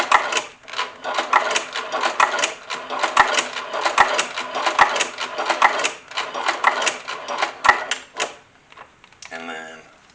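A sewing machine runs in quick rattling bursts while back stitching a stick horse, then stops briefly before a short final run, close and clear.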